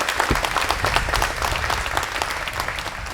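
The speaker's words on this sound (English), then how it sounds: "please give the Congressman another round of applause" Loud, close round of applause from a luncheon crowd for a congressman, dense continuous clapping throughout.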